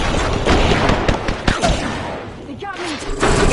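Video game gunfire during an online battle, rapid bursts of automatic weapon fire and sharp shots crackling in dense clusters, loud and close, with voices and game sounds mixed in.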